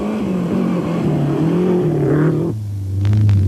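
A rally car on a narrow Cyprus rally stage at a 1993 European Championship round roars past close by, its engine note rising then dropping off sharply as it passes, followed by a lower steady rumble.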